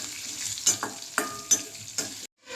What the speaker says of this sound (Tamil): பூண்டு ஒரு வரமிளகா கொஞ்சமாக தேங்காய் இதெல்லாத்தையும் வறுத்து எடுத்துக்கலாம்